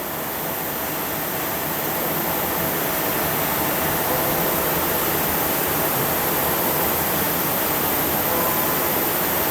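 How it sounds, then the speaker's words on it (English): Coolant gushes steadily over a cutting tool on a machine shop machine, a loud, constant broadband hiss and wash with no breaks and no voices. "Let's turn the coolant back on, keep this thing happy."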